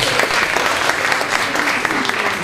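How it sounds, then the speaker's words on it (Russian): Steady applause from a festival audience at an opening ceremony, a dense, continuous clatter of many hands filling the room without pause, fairly loud and close, with no voices over it. "Аплодисменты."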